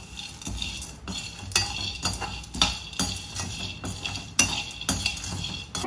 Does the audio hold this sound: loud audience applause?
no